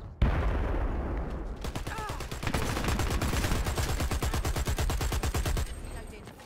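Rapid automatic gunfire from the online shooter game Dirty Bomb, a dense run of sharp repeated shots that starts after a brief pause and continues steadily for several seconds, loud and close, with a faint voice briefly underneath.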